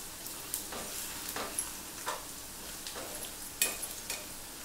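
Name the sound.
potatoes frying in oil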